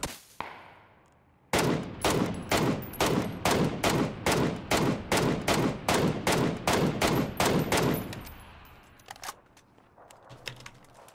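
PUBG gunfire: after a faint lead-in, a loud, rapid string of about twenty evenly spaced shots rings out for six seconds, then a few scattered lighter pops follow.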